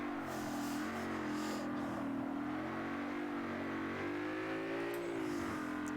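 Race car engine in Forza 7 droning steadily, its pitch shifting as the car brakes and drops gears, with no voices over it.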